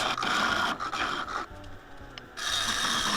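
A turning tool takes big bites from spinning wood on a lathe, giving a close, loud scraping and rasping with a rhythmic pulse, easing off briefly in the middle before returning.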